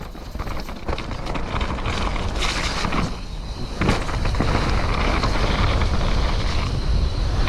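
Downhill mountain bike rattling over a rough trail, with a steady roar of wind and rolling noise plus repeated sharp knocks and clatters from the bumps throughout.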